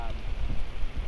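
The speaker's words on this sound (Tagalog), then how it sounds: "Lakas ang ulan mga dol, lamig." Heavy rain pours down outdoors at sea on a fishing outing, a dense continuous hiss and patter close around, with faint murmuring voices underneath.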